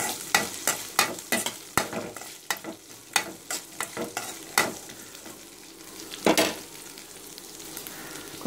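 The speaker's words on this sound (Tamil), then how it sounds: "நல்லா வதங்கணும்" Potato masala sautéed in a pan for puri, a spatula striking and scraping in a brisk irregular rhythm, close and clear over a faint frying hiss that lingers as the strokes slow.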